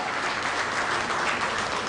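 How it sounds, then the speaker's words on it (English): Audience applause for a commissioner at a Lagos Chamber of Commerce (LCCI) event: steady, dense clapping from a crowd, filling the whole short clip with no pauses or talk. "A round of applause for her."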